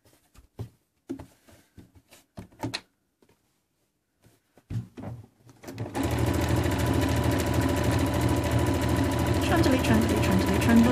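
A sewing machine stitches patchwork fabric for a cushion cover, starting after a stretch of soft handling noises and then running as a loud, steady, fast mechanical whirr to the end.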